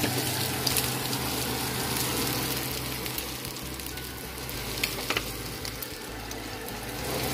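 Sausage, garlic and rice cooking together in a pan give a continuous, fairly loud sizzling hiss with a low background hum and a few faint clicks, no voices.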